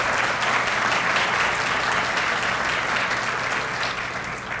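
An awards-event audience claps steadily in sustained applause for a gold sponsor, Arizona State University, a dense even wash of hands that stays loud and then eases slightly near the end.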